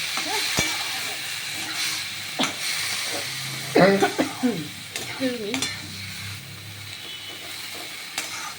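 Sliced banana stem frying in a pan, giving a steady soft sizzle and hiss with occasional stirring scrapes, heard close up under brief talk.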